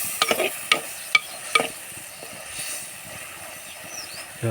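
Egg masala curry with tomato simmers in a pan after chili powder goes in, a soft bubbling sizzle with a few sharp spoon stirs and clinks at the start, close and without speech.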